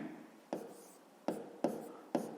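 Pen on paper while working a fifth-grade percentage problem: four short, crisp scratching strokes, each starting sharply and trailing off, close and quiet in a still room.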